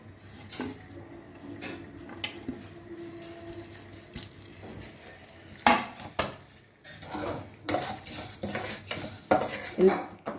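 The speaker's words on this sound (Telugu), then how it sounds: "అన్నీ ఇలా వేయించుకోవాలండి." A metal spatula scrapes and clinks against a pan as spices, including cumin, are dry-roasted and stirred, with irregular knocks and rattles and a faint background hum.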